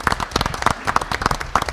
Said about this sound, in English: Nope, they didn't make it back, but still give them a big round of applause.